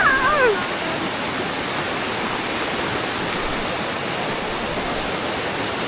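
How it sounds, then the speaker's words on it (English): A river in Bali rushes past in a steady, dense broadband wash, loud and close, with no break across the whole stretch and only a faint trace of a voice near the very start. "Wow, you have like real river"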